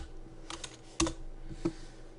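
Someone types a short search on a computer keyboard: a few light, uneven key clicks followed by two sharper, louder presses, close and clear in a quiet room.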